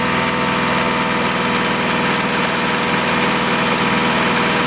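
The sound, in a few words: car engine running during catalytic converter test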